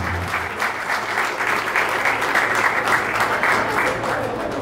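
A large audience at a São Paulo state government event in Ribeirão Preto claps in sustained, dense applause that swells slightly midway and holds steady until the end.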